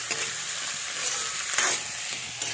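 Steady sizzling of poha ingredients frying in a pan, a continuous hiss of hot oil with faint stirring and scraping, close and even throughout.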